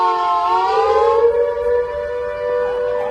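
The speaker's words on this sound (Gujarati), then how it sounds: "ચારેકોર ગુંજતો સાયરનનો અવાજ" A civil defense siren wails during a mock emergency drill in Gujarat, loud and echoing, its tone sliding down and then holding a sustained drone across the whole stretch with no talk.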